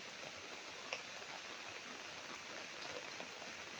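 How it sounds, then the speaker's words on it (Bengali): Rain falling steadily, a faint, even hiss of drops on surfaces with a couple of slightly louder single drips, no voices. "বৃষ্টি ঝরতেছে, মধু ঝরতেছে না"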